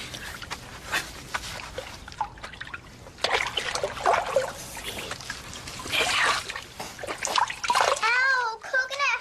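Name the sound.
water poured over a child's hair while washing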